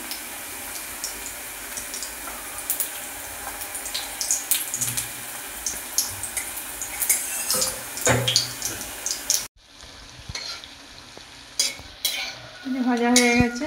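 Frying and stirring in a pan for spinach curry: a close sizzle with scraping spatula strokes and clatters, then a softer patch ending in a brief rush like running water.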